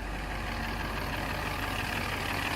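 Car engine running at raised RPM after an oil leak repair and oil top-up, a steady, loud, even drone with a low rumble and no break.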